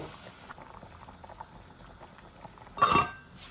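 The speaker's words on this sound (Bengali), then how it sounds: "এই যে বলক এসে গেছে" Fish and potato curry with tomatoes and coriander coming to a boil in a pot, a soft continuous bubbling with a brief louder clatter near the end.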